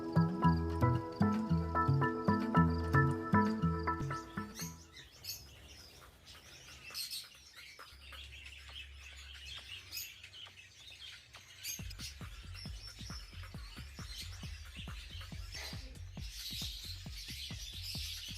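Small show birds in a breeder's aviary chirping and tweeting in quick, bright overlapping calls, fairly close, with a rhythmic mechanical hum at the start and a soft ticking pulse underneath later.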